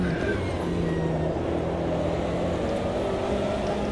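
Race car engines roaring steadily in Automobilista 2 as a car runs behind an Aston Martin in Gulf Racing colours and closes on a BMW, a loud continuous drone of several engines with no break.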